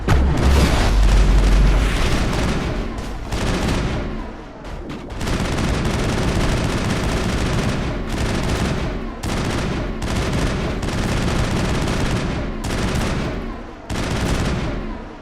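Rapid gunfire from the video game Mass Effect, loud sustained bursts of automatic shots with short gaps between volleys, dense and close throughout.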